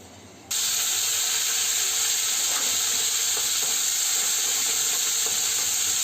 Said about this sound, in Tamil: கருவேப்பிலை போட்டு தாளிச்சிட்டோம்.